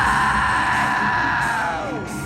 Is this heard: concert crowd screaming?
yes